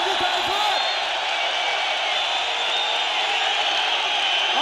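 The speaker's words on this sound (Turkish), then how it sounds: "Alkış." Sustained applause from a crowd for Ferdi Tayfur, a dense, even roar of clapping that holds steady at full loudness from start to finish.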